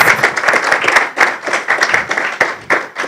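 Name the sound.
audience applause at a graduation ceremony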